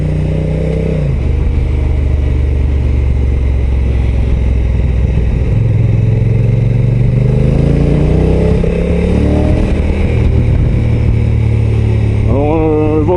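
Honda NT 1100 DCT motorcycle riding with a constant loud engine drone, pitch rising and falling as it accelerates and shifts, plus steady wind and road noise.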